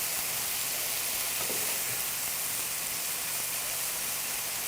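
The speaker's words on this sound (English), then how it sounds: "You want a nice sear to the eggplant." Eggplant sears and toasts in a hot pan, giving a steady broad sizzling hiss with no breaks, fairly loud and close.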